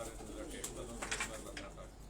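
Fantail pigeons cooing softly in a loft, short low murmuring coos against a steady background hum, with a voice briefly present.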